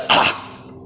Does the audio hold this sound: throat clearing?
yes